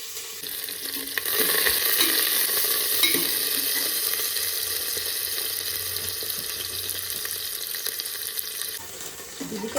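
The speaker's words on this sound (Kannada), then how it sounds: "ಚೆನ್ನಾಗಿ ಫ್ರೈ ಮಾಡ್ತೀನಿ." Chopped onions and green chilies fry in hot oil in a home kitchen pan, a loud continuous sizzle that swells after the first second and holds steady, with faint stirring and no voices.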